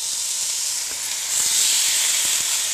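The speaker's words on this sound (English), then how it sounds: "make sure your pan's nice and hot and you get that sizzling factor going on" A lamb leg roast sizzles in a hot pan, a steady bright hiss that swells a little halfway through and carries on loud and close, with no talking.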